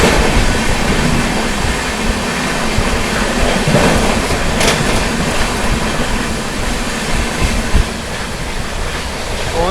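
An Indian Railways Amrit Bharat Express approaching to overtake a train waiting on a loop line in heavy rain, a loud, dense, continuous rumble and rush heard close by, with no clear speech.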